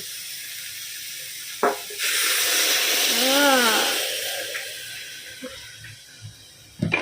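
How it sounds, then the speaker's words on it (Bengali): Water poured into a hot frying pan of lightly fried food, bursting into a loud sustained hiss of steam for a couple of seconds before fading, with scattered clatter around it. "একটু ফ্রাই ফ্রাই হয়ে গেছে এবার দিয়ে দেবো জল"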